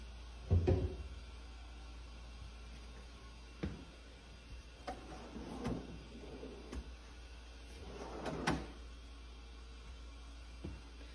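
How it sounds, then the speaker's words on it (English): Soft-close pantry pull-out drawers in a custom kitchen in Cambria, California make a run of dull knocks and slow sliding rumbles, with a heavier thud near the start and a cluster of soft bumps later, over a steady low hum. "Everything is soft close. I didn't push that one very hard, so it's taken quite a while."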